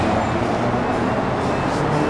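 Steady street traffic in Kiev, Ukraine, forms a dense, continuous roar of passing cars without any pause.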